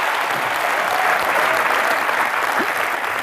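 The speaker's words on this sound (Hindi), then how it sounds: "हमारी कंजूसी और कंगना के सेंस ऑफ ह्यूमर के लिए जोरदार तालियां।" Steady, dense applause from a studio audience on a comedy talk show, loud and continuous throughout with no pauses.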